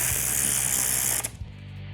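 Ratchet wrench tightening bolts to draw a fuel pump down into place on an engine, a steady rapid clicking that runs loud for over a second then stops, followed by a few lighter clicks.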